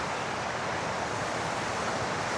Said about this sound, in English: This is the Glenmagnus waterfall where it begins.